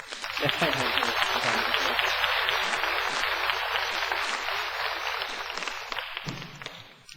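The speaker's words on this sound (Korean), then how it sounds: "이분들을 위해서 한번 박수 치시고" Sustained clapping from a church congregation during a Sunday morning service fills the space at steady loudness, with a voice briefly audible near the end as it fades.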